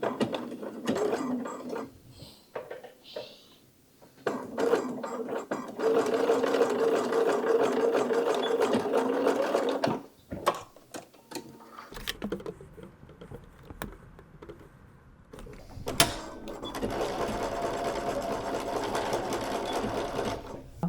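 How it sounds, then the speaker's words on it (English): Sewing machine stitching a pocket edge on a top, running in long steady bursts with short pauses and a quieter stretch midway, close and clear with no talking. "I'm just going to sew 3/8 of an inch right here"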